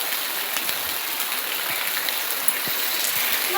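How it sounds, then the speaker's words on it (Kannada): Heavy rain pours outdoors in a steady, dense hiss of falling water, with faint scattered drips and patters throughout and no voices. "ಮಸ್ತ್ ಮಳೆ ಹೊಂಟದ ನೋಡ್ರಿ"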